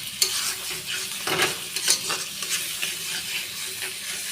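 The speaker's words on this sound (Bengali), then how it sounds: "যে পেস্টটা বেটে রেখেছিলাম সেই পেস্টটা ভালো করে কষিয়ে নেব।" Ground spice paste fries in hot oil with bay leaf as fish curry is cooked, a steady close sizzle broken by the scrape and clink of a spoon stirring in the pan.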